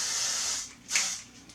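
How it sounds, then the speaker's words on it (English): Hairspray is misted onto textured hair during a half updo styling, giving a soft steady hiss that fades, then a short second burst, close to the microphone and alone. "First you want to spray."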